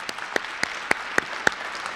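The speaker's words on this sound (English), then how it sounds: "Please join me in giving our students a round of applause this evening." Audience applause for students at an evening awards ceremony, the Seneca People's Choice Awards, heard as a soft, steady patter of many hands with a few sharper individual claps standing out at regular intervals.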